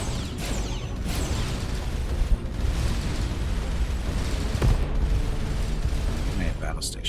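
Missile explosions in the space combat game Starcom: Unknown Space, dense rumbling blasts and crackling bursts layered in a continuous loud barrage, with a few sharper hits and someone talking over it.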